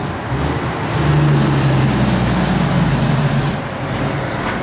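A 1969 Chevrolet Camaro RS engine runs with a loud, steady, deep rumble, swelling slightly in the middle and holding a constant idle-like drone throughout.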